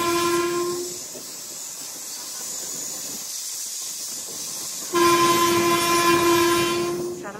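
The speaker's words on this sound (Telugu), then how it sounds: "మనకి ఎదురయ్యింది ఏ ట్రైన్ అనుకుంటున్నారు? మన నర్సాపురం అరుణాచలం బండి." A Narsapur–Arunachalam train passes close by, sounding two long, loud horn blasts separated by a stretch of hissing, rushing rolling noise.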